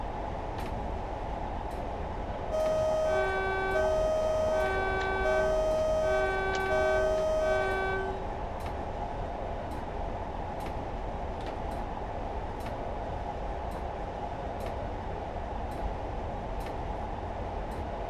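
Train in Train Simulator 2017 running on the York to Newcastle line, a steady rumbling rail drone with regular clicks of wheels over track joints, and a multi-tone horn or chime sounding in short repeated notes for several seconds near the start.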